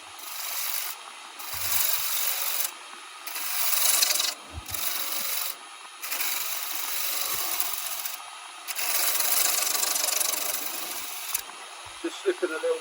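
Wood on a lathe being shaped into a Christmas bauble with carbide tools gives a loud, rasping scrape in repeated long passes separated by brief pauses, close and continuous.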